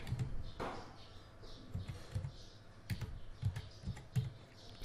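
A command being typed on a Windows computer keyboard, quiet close-up key clicks in an uneven rhythm with a few sharper taps and pauses between them.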